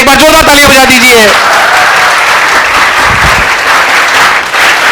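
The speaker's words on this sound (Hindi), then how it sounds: "एक बार जोरदार तालियां बजा दीजिए।" A large audience at a Kota coaching event breaks into loud, sustained applause for a senior IAS officer, the Rajasthan chief secretary, as an amplified voice finishes speaking over the first second.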